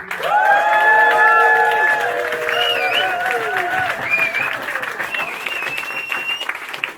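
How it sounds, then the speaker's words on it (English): Applause from a seated audience at a car rally presentation evening, strong at first and slowly thinning, with whistling tones and voices rising over the clapping. "Big round of applause for yourselves."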